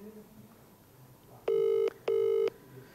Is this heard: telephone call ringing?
yes